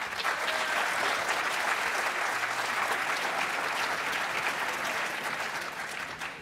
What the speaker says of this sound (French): on applaudit bien fort Christelle Morancet